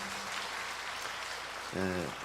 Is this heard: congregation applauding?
yes